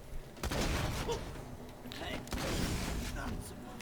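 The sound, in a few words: flak gunfire in a video game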